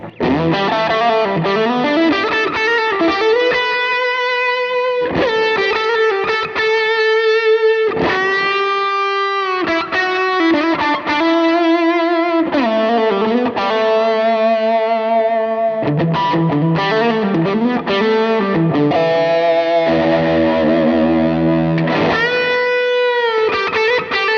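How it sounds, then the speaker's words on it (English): Smooth, fuzzy overdriven electric guitar through an RJM Music Overture overdrive pedal with delay plays a flowing lead line with echoing repeats trailing each phrase, loud and continuous, no voices. "this smooth setting is I associate that with more towards the fuzzy side of overdrive"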